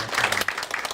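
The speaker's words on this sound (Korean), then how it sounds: "박수 한번 주시죠" Brief burst of audience applause at a Seoul village media festival forum, a short spell of clapping that rises quickly and stays moderately loud, with faint voices mixed in.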